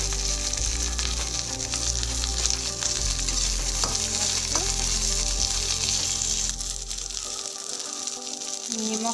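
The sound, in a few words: chopped onions frying with cumin and ginger leaves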